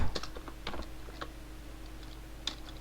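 A command typed on a computer keyboard: a few scattered key clicks at an irregular pace, fairly quiet over a steady low hum.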